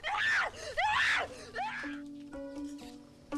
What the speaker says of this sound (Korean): 뭔가 잔뜩 겁에 질린 듯한 소녀는 시시때때로 발작적인 고함을 질러댑니다